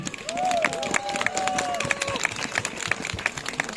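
A crowd applauds steadily at a St. Nicholas Day holiday concert in Truskavets, with even clapping filling the whole stretch over a murmur of voices.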